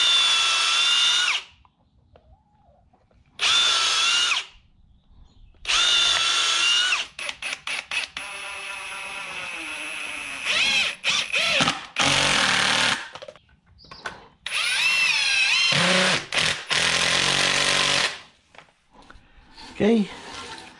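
A power drill whines in repeated bursts of several seconds each, close and loud, pre-drilling holes in wood with short pauses between runs.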